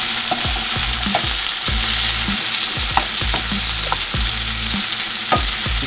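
Red and mild peppers with onions sizzle loudly in a pan as a utensil stirs them, leaving repeated scraping strokes against a steady, close frying hiss.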